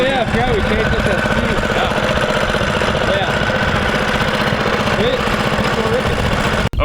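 A small off-road mini bike engine runs steadily at close range, a buzzing, throbbing mid-pitched idle that continues without pause until it cuts off abruptly at the end.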